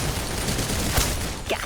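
Rapid video game gunfire, a dense fusillade of shots crackling close and loud across the whole moment with a sharper burst near the middle.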